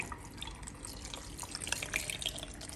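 About one and a half cups of water pour into a blender holding quartered tomatoes, garlic and a piece of onion, making a steady close splashing and trickling with small drips.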